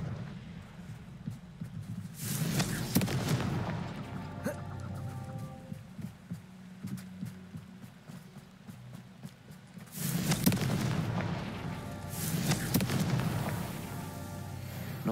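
Confringo blasting spells in Hogwarts Legacy burst out as a few loud, sharp whooshing blasts, spread apart over a low rumbling game backdrop.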